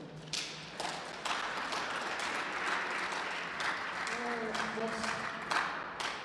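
Applause at a book launch event in a shopping mall, a steady wash of clapping from a gathered crowd with a few sharp individual claps and some faint voices mixed in.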